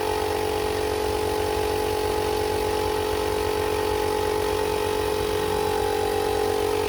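An electric air pump runs continuously while inflating a Tannus Armour bike tire, a steady, loud, buzzing mechanical drone with an even rhythm and no pauses.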